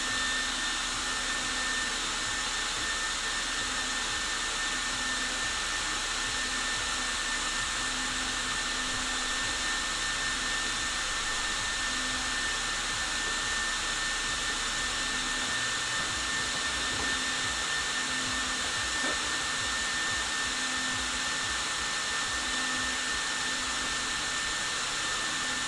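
Hair dryers inside a homemade air fryer run with a loud, constant blowing roar and a steady motor whine, unbroken for the whole stretch.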